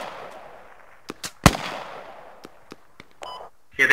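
Squad military game combat: sharp explosive bangs and scattered shots ring out, one big blast standing out among smaller pops and faint tones, with quiet gaps between.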